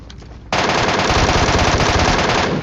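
A sudden, sustained burst of rapid automatic gunfire in a video game erupts after a quiet moment, loud and dense, continuing without pause.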